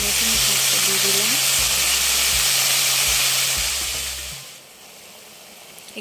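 Dried red chillies frying in hot oil in a pan for a radish greens dish, a loud steady sizzle with a low hum beneath that fades down near the end.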